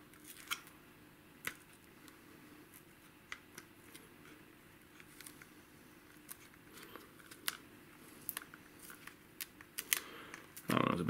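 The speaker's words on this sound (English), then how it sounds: "start peeling that. Pushing down and in and then pulling up." Adhesive ear pad peeled off QC25 headphones, scattered small sticky ticks and crackles at close range, building to a louder tearing rip at the end, with speech occurring alongside.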